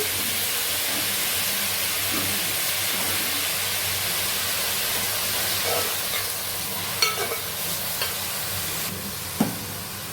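Onions and green chilies sizzle steadily in hot oil in a pan for a chicken curry, a continuous frying hiss with a few faint stirring clicks and no talk.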